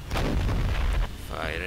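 Artillery fire in the Total War 1942 strategy game, with a Finland versus Soviet Union battle: a loud, sustained booming roar of cannon blasts up close, tailing off into rumbling echoes.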